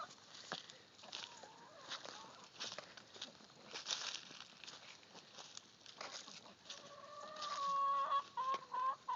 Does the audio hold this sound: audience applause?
no